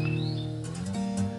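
A young white-rumped shama (murai batu) gives a couple of brief, thin chirps near the start, over a low steady background hum.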